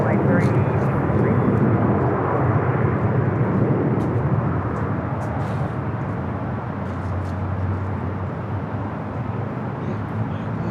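Jet airliner taking off from runway 24 left at Los Angeles International Airport, a loud continuous engine roar that slowly fades over about ten seconds, with radio chatter audible underneath.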